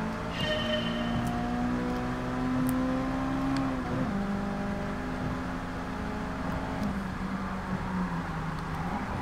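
Honda EK Civic Type R with a VTEC engine in the racing game Gran Turismo Sport, running steadily on a highway with a loud, continuous engine drone that shifts pitch with gear changes, heard alone without talk.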